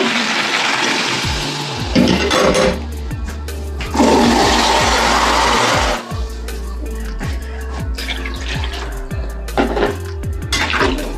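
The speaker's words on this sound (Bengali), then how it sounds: "আমি এবার পরিমাণ মতো ঝোলের জন্য জল দেবো" Water poured into a pot of shrimp curry with potatoes, a loud close splashing rush in surges alongside clinks of metal cookware.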